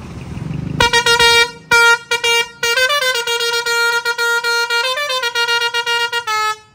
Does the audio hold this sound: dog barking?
no